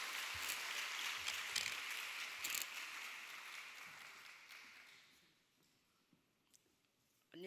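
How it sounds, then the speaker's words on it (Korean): Applause from a congregation at a Friday late-night church prayer meeting, a dense wash of clapping that gradually thins and fades toward the end, with a few scattered claps left over. "박수해 주세요."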